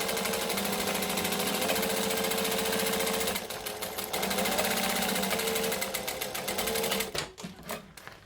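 A sewing machine stitches a handbag seam in a fast, steady mechanical chatter, pausing briefly partway through, then running again before slowing and stopping with a few uneven clicks.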